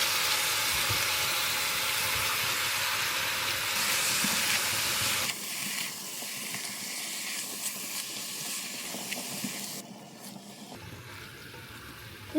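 Pork poured into a hot, dry wok with no oil sets off a loud, steady frying sizzle, like a broad hiss. It drops back in stages as the cooking goes on.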